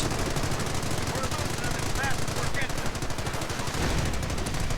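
Machine gun fire in a real-time strategy battle game rattles as rapid, continuous bursts that fill the whole stretch, loud and dense, with a faint voice underneath.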